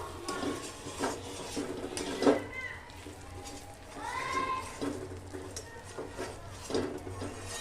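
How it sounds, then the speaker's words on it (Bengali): Chicken curry with coriander leaves is stirred in a pot, soft scraping and clinking of a spoon against the metal, irregular and fairly quiet, with occasional faint voice in the background. "আবার একবার নেড়ে দেবো।"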